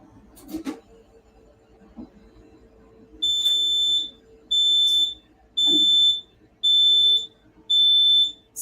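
An alarm on a magnetotherapy device signals the end of a half-hour treatment with five loud, evenly spaced high-pitched electronic beeps, each lasting close to a second, after a few quieter handling knocks.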